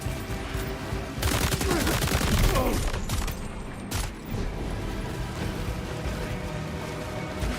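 Gunfire from a weapon in Death Stranding 2: On the Beach, a burst of loud shots and clattering mechanical noise in the middle, with scattered sharp reports before and after over a steady game background.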